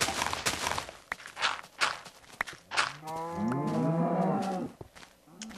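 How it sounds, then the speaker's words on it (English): A cow in the video game Minecraft lets out a long, loud, close moo lasting a couple of seconds, following a run of blocky footstep thuds and clicks. "Hello, cow. Goodbye, cow."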